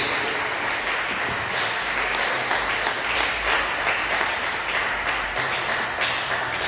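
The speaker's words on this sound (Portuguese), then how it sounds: "Quem pode dar uma salva de palmas bem alegre para Jesus?" A church congregation applauds continuously, a dense steady wash of clapping that holds at an even level throughout.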